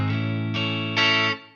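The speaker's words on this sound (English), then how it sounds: "And then what we're doing is we're doing a slide." Electric guitar played through distortion and chorus effects, sustained chords held then struck again twice with a slide between positions, loud and ringing before fading out, no voices.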